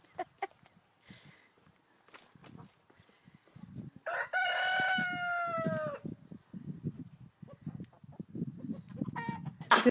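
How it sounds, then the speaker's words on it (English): Backyard hens cluck in short scattered bursts around a farm coop, joined midway by a loud, drawn-out rooster crow, with quieter rustling between the calls. "And hens are really beautiful to watch. You know, the way that they rake around and talk"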